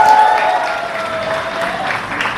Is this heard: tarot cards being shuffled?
no